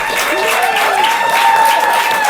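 Studio audience at an Estonian comedy quiz show gives the winners sustained, loud applause, steady through the whole stretch, with whoops and voices mixed in.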